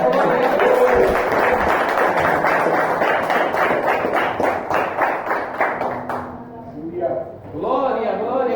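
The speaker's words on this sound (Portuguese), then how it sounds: "as palmas glorificam o nome do Senhor nessa noite" Congregation clapping during a Pentecost evening church service, a loud, sustained round of many hands with crowd noise, fading out as a voice takes over at the end.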